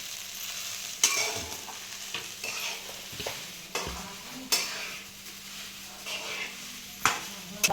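Sabudana roasts on a pan over low gas while a spoon stirs it, producing a soft frying hiss broken by several sharp scraping strokes and clinks at irregular intervals. Faint talk sits underneath.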